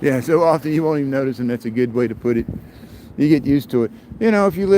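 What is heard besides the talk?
No everyday noise stands out behind the speech.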